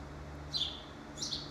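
Small birds chirp inside a truck repair shop, two short bright bursts of tweeting standing out over a low steady hum of the shop.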